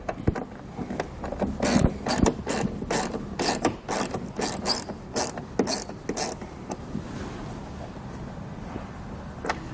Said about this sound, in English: We can now remove this Phillips head screw at the top of our wheel well.